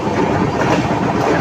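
Vivek Express passenger train running through a series of short tunnels on a curving line, a loud continuous rumble and rattle of carriages with steady wheel clatter, close and enveloping.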